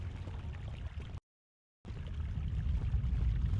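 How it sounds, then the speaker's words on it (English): Flowing water in the video game Knights of the Old Republic 2, a steady pouring rush that breaks off into a brief silence and then resumes, slightly louder, continuous and close. "Fucking sound of the water's not helping."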